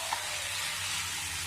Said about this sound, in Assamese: পাতকবি আৰু আলু ভাজিছোঁ